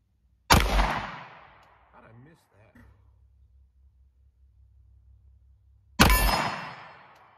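A Glock G43 pistol fires Barnes TAC XP rounds: two loud, sharp shots about five seconds apart, each with a ringing decay. Quiet talk and handling noise fall in the gap between them.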